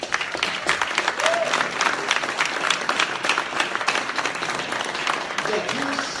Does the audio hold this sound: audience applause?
yes